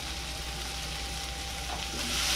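Guava bhaji being stirred and fried with turmeric, spice masala and salt in a pan: a steady, close sizzle with soft stirring scrapes throughout, no voices.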